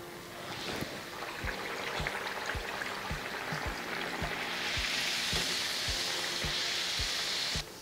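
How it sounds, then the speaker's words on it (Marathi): Spiced puris frying in hot oil over a low flame, a steady bubbling sizzle that swells louder midway, with faint regular low thumps underneath and no talk. "मंद आचेवरच आपल्याला या पुऱ्या तळायच्या"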